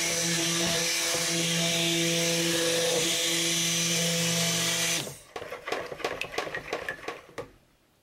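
A stick blender mixes cold process oven process soap batter to trace, giving a steady close-up whirring hum for about five seconds before cutting off, followed by a scatter of light clinks and taps.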